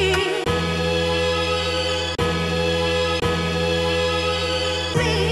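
A chopped record sample, long segments playing out as a loud, dense, continuous musical loop with clean cuts between chops roughly every one to three seconds.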